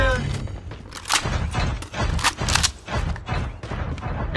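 Call of Duty game gunfire in a SafeGuard mode, repeated loud close bursts of rapid shots and impacts in an irregular rhythm, with brief game voice callouts mixed in.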